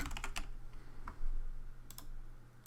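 Quick bursts of keystrokes on a computer keyboard, close and fairly quiet, with a few separate clicks over a low steady hum.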